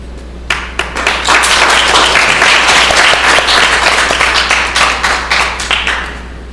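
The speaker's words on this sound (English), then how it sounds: "With a big applause, we want to invite Professor Isaskun" Lecture audience applauding to welcome a professor onto the stage, loud, close, sustained clapping from many hands with a steady electrical hum beneath, the individual claps thinning near the end.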